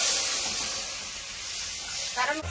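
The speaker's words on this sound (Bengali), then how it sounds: "মাছ ভাজার কড়াইতে জল দিয়ে দেবো" Water poured into a hot kadai used for frying katla fish hisses loudly in one sustained burst of steam that slowly fades, close up, with a brief clatter near the end.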